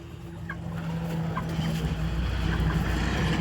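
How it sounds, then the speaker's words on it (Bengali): Chickens on a poultry farm cluck and murmur in a low, continuous flock noise, with a few brief calls rising over a steady hum. "আপনারা দেখতেই পাচ্ছেন পোলট্রির ফার্ম, এবং ফার্মে রয়েছে মুরগি"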